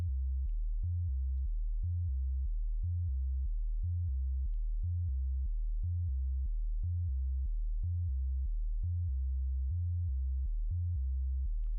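An ambient pad built in the Reaktor synthesizer, with an LFO driving its step sequencer, plays a steady loop of soft, low, pure-toned pulses in an even repeating rhythm, alone and unbroken.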